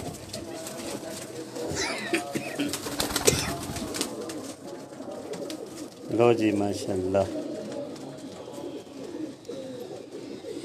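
Pigeons on a rooftop coo in soft, repeated throaty calls close by, with someone talking over them throughout.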